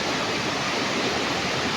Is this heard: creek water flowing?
yes